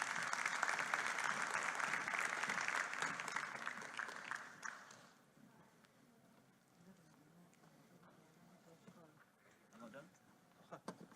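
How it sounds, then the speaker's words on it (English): An audience at the AIW2024 conference applauds as Rinat Zilberstein, AT&T VP of R&D, is called to the stage: dense, loud clapping for about five seconds, then it drops away to quiet room noise with a few faint sounds. "Applause for Rinat."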